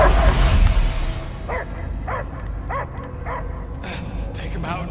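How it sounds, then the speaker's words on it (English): A dog in Marvel's Guardians of the Galaxy video game barks in a steady series of sharp, evenly spaced yaps, following a loud rumbling burst at the start. "I hear only barking"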